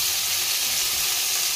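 Chopped tomatoes hit hot oil in a frying pan while cauliflower, potato and green pea kurma is being cooked, giving a continuous, close sizzle and hiss with no talking.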